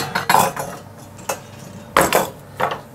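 Several sharp metallic clanks and scrapes of a heavy cast iron pot lid being set down and adjusted on a Louisiana Grills LG800 pellet smoker, spaced unevenly with quiet gaps between.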